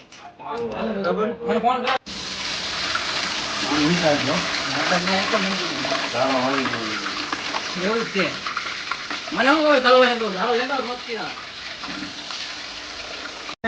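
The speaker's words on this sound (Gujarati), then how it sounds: "પછી એમાં ડુંગળીને તળવાની" Whole onions fry in hot oil with a constant hissing sizzle and stirring noises close by, while a person talks over the cooking for most of the stretch.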